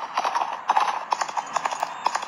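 Horse hooves clip-clopping in the West Gunfighter video game, a quick, steady series of close, hollow knocks from a riding gait, with no voices over them.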